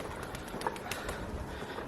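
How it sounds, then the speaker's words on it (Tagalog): Pigeons coo softly in a short burst over light background noise, with a few faint flutters. "Yan itong mga kalapati. Napaka-domesticated nila."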